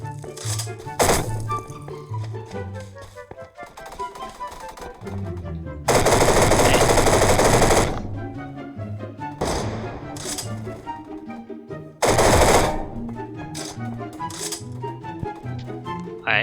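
Tavor rifle fire in the Roblox shooter Energy Assault, bursts of rapid automatic shots crackling through game music and effects, with loud dense volleys around the middle and near the end.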